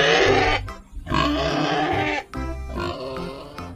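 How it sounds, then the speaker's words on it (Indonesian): Farm pig grunting in a series of loud, close, rough oinks in three bursts separated by short pauses, with no talking. "Wow, lihat, ini ada babi ternak."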